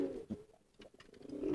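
Released pigeons coo in a few low, soft bursts, with quiet gaps between calls and a fuller murmur building toward the end.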